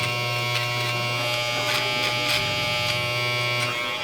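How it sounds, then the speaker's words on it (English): An electric beard trimmer lines up a beard across the upper lip, buzzing steadily and close up, with the motor pitch dipping briefly as it presses against the hair. "we're gonna line it up all the way across the lip with the trimmer"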